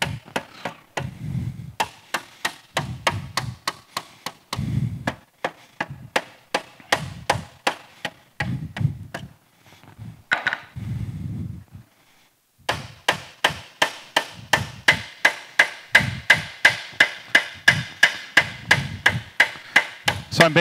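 Hammer walked across sheet metal to shrink a curved corner edge, giving a long run of sharp, closely spaced metallic taps, steady and rhythmic, pausing briefly before resuming faster and louder near the end.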